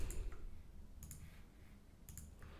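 Keys on a keyboard click very faintly in a few short, sparse clusters as a word is typed, set against a low, quiet background hum.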